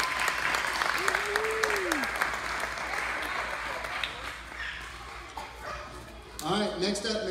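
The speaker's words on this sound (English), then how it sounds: "Give them a round of applause." Audience applause for students named school award winners at a school event, a moderately loud burst of clapping with a voice speaking over the end and other noises mixed in.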